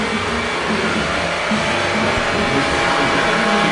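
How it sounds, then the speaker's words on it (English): An air compressor runs steadily throughout during a house rehab with no electricity yet, a constant broadband motor roar at close range with no talk. "Obviously, we still don't have electric yet because you can hear the compressor going."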